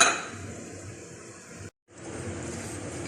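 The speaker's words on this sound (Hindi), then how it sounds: "कुटे हुए ये नारियल डाल देंगे और ये पिस्ते और बादाम डाल देंगे और इनको हम मिक्स कर लेंगे।" A spoon mixes dry milk powder, crushed coconut, pistachios and almonds in a bowl for homemade kheer mix, giving a steady close scraping and clinking that stops briefly partway through and then resumes.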